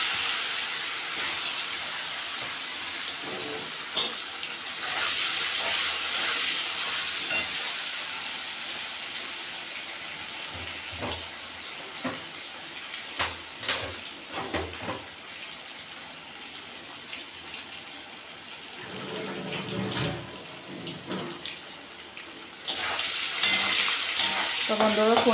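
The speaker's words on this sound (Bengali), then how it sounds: "পাঁচফোড়নের সঙ্গে সঙ্গে পনিরগুলো একটু ভেজে নিলাম।" Paneer cubes fry with panch phoron spices in a pan, giving a constant hiss and crackle broken by repeated knocks and scrapes of a spoon stirring, louder bursts of sizzle at the start and end.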